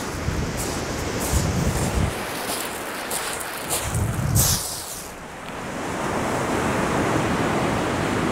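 Strong wind buffets across Chesil Beach, a shingle shoreline, roaring steadily in loud gusts with surf-like rushes and microphone buffeting throughout, with no voices.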